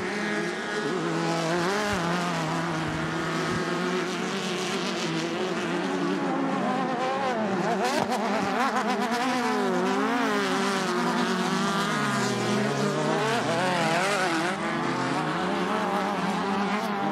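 Race cars at the Elk River Sportsman Day event, a continuous loud whine of several engines rising and falling in pitch as they pass and circle the track, with no clear talking.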